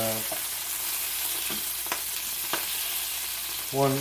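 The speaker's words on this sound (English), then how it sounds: "want to keep on frying these" Steady broadband sizzle of sausages frying in a pan, with a few sharp pops and a brief low hum near the end.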